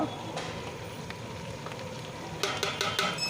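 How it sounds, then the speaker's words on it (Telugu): Coriander and mint leaves frying in hot oil with curry leaves, turmeric and asafoetida for a mixed vegetable sabji, giving a steady close sizzle and crackle that brightens toward the end with stirring. "కొత్తిమీర పుదీనాని యాడ్ చేసేసుకొని మంచిగా అయితే ఆయిల్లో వేపుకోవాలి"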